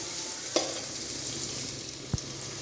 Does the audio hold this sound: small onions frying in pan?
yes